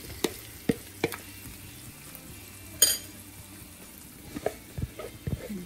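Potatoes and tomatoes sizzle softly in hot oil in a pan, with intermittent sharp scrapes and clatters as a spoon stirs and mixes them, the frying hiss low and steady underneath.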